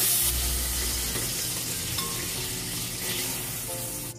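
Chorizo sizzles steadily in a hot frying pan, a constant crackling hiss with occasional stirring.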